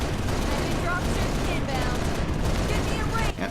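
Gunfire aimed at a dropship in Halo Reach forms a dense, continuous barrage of rapid shots, loud and unbroken throughout with scattered small impacts layered on top.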